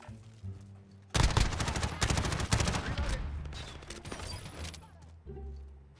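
Gunfire in the Call of Duty Modern Warfare beta cracks out in rapid, loud automatic bursts that run for several seconds, then cut off, framed by quieter game ambience and a player talking.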